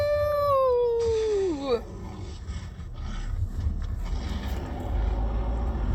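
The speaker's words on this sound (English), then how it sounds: "I don't like hearing him whimper and cry out, though, when you've hit him hard." A werewolf in the Harry Potter: Wizards Unite mobile game lets out a loud, descending whining cry when struck, its pitch sliding down over about two seconds before fading into rumbling game background noise.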